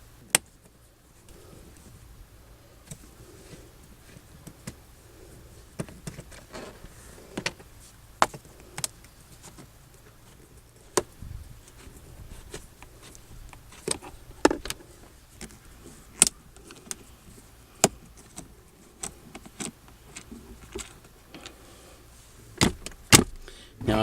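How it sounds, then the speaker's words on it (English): Screws being loosened and removed from the glove box area inside a 2001 Toyota Avalon, scattered faint clicks, taps and small plastic knocks over a quiet background, with no talking. "now we can loosen and remove these three screws"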